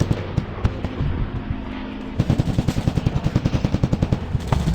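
Video game gunfire in Commando Strike: a muffled stretch gives way to a fast, loud automatic burst of evenly spaced shots running to the end.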